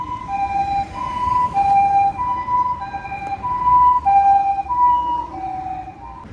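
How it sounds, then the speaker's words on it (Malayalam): Japanese ambulance siren passing along a street, its loud two-tone wail alternating steadily and holding strong throughout, close by with road traffic rumbling underneath. "ഒരു ആംബുലൻസ് വരുന്നുണ്ട് അതിൻ്റെ സൗണ്ടാണ് കേട്ടോണ്ടിരിക്കുന്നത്"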